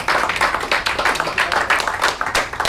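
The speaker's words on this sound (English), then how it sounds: "Can we have a big round of applause for our" An audience at a speech event gives a round of applause, dense overlapping clapping sustained close and loud throughout.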